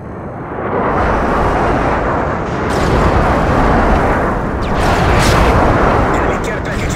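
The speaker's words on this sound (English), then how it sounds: "enemy airstrike approaching." Enemy airstrike explosions in Call of Duty Modern Warfare 3 roll together into a loud, continuous booming rumble for several seconds, swelling in a few waves without a clear break.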